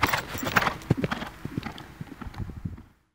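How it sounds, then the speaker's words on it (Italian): Horses' hooves clip-clop at a racing stable in Siena during training, a busy stream of irregular hard knocks fairly close that thins and fades near the end. "Si prosegue con gli allenamenti dei cavalli"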